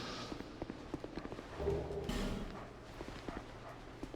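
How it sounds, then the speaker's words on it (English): Many dogs fill a room in Dark Souls II, their quick footfalls pattering and thudding irregularly at close range. A heavier scuffle swells briefly in the middle, and the patter continues after it with no speech. "That was nice of the game to fill the room with a billion dogs."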